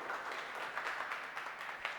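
Applause for a student at a school results event, a dense, steady patter of many hands clapping throughout at moderate distance, with no voices on top.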